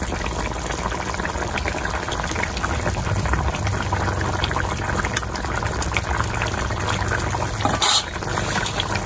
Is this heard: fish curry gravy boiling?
yes